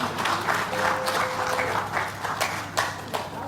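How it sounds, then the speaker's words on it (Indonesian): Audience clapping hands at a speech on 18 August 2020, a steady spread of claps over a low background hum, sustained throughout at moderate loudness. "Coba tepuk tangan saya mau lihat ini."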